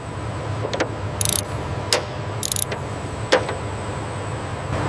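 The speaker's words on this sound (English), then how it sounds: "The torque wrench confirms the precise installation." Several sharp mechanical clicks from a torque wrench ring out at irregular intervals over a steady factory hum on a Lamborghini supercar assembly line, where a carbon fiber monocoque is being built.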